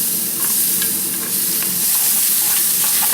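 A dark roux for gumbo is stirred in a pot, a steady close sizzle with light scraping strokes running throughout at an even level.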